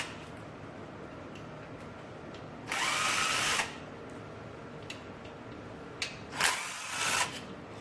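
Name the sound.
Torx bit driver removing screws from B&M shifter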